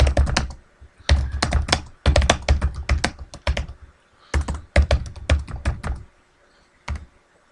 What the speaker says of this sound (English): then you can just start typing